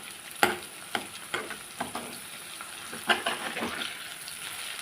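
Okra frying in a pan as lady's finger varuval, with a steady sizzle and several sharp spatula scrapes and knocks as it is stirred, close and fairly loud.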